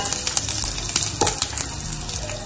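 Cumin, mustard seeds, curry leaves and asafoetida frying in hot oil, a steady crackling sizzle with sharp pops and spatters close by, no talk.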